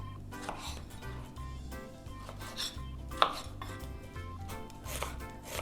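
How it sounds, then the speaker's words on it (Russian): Knife slicing tomatoes on a cutting board for a Georgian salad, a quick run of crisp, evenly spaced cuts with one sharper tap, set against soft background music. "Теперь нарезаем помидоры."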